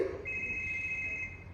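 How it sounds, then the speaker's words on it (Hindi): A phone rings during a stage comedy show, a steady electronic ringtone tone sustained for over a second at moderate level, with faint room noise and a brief murmur at the start. "तुम्हारा फोन बज रहा है।"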